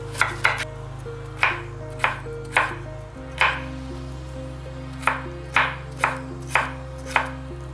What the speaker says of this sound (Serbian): sada ću jedan sveži krastavac koji sam prethodno oprala iseckati na što sitnije